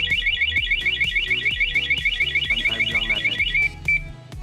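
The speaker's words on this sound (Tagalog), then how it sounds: "Tapos kapag ginalaw ulit, mag-a-alarm na siya." An SGP motorcycle alarm fitted to a Raider 150 FI blares a rapid, warbling electronic siren close by, repeating quickly for several seconds before stopping, then giving a short final chirp.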